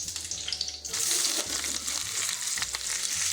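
Onion frying in oil as a base for beef liver, a loud steady sizzle with crackles that swells as the pieces hit the pan.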